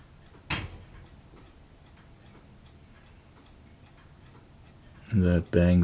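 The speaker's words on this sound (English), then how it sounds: "the chain on my old grandfather clock adjusting itself" An old grandfather clock's chain adjusts itself with one sharp bang near the start, followed by faint ticking, then brief talk at the end.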